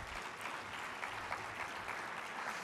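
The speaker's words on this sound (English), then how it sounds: "Mike, let's give him a round of applause." An audience at a realtors' association state meeting applauds, a dense, even wash of many hands clapping, steady and moderately distant throughout.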